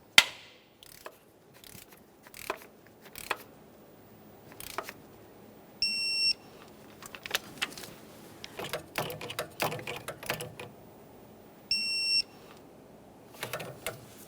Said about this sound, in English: we'll torque it to 32 foot-pounds and then do the same to the lower mounting bolt